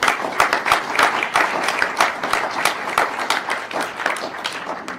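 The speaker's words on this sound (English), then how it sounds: "If you would give them a round of applause" A lecture audience applauds steadily for several seconds, dense clapping from many hands with no voices over it.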